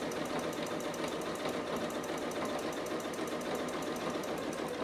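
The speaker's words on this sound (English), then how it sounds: "when you gently pull, it's all going to flatten out and we can just start stitching." A sewing machine stitches the band of a kangaroo pocket on a sweatshirt, its needle hammering in a fast, even, continuous rhythm up close and loud throughout.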